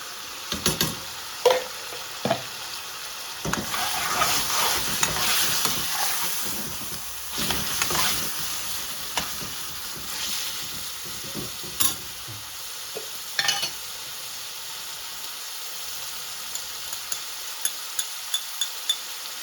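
Tomato puree sizzling in a hot pan with spices for a chicken tadka curry, stirred with a spoon: a steady frying hiss broken by sharp scraping clatters and taps, close and fairly loud, easing off toward the end.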